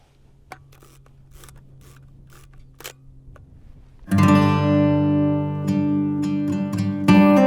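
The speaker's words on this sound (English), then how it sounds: "I'm going to flick up the mirror" A Hasselblad 500C/M medium-format camera gives a few faint clicks before a sharp mechanical snap of the mirror flipping up and the shutter releasing, followed by a loud sustained ringing tone outdoors.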